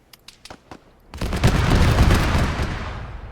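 A rocket strike explosion in the military video game Arma 3: a few faint distant pops, then a sudden loud, broad blast that rolls on as a sustained rumble.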